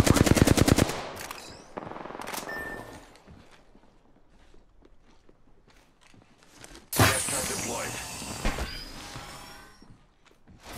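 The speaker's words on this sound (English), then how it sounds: "Getting shot at." Rapid automatic gunfire bursts in the Apex Legends battle royale game, loud and close at first, then scattered shots and footsteps, followed by a sustained roaring blast of noise.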